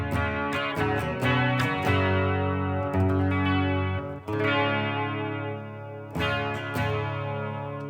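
An electric guitar built from a DIY kit plays clean-toned chords. The notes are struck near and clear and left to ring out and decay, with a few sharp re-strikes between long sustains.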